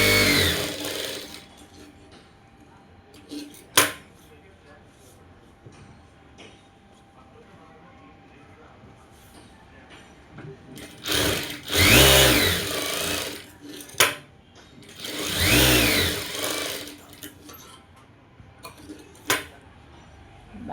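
Sewing machine stitching a blouse, with several short bursts of close, loud mechanical whirring and rattling separated by quieter gaps and small handling clicks.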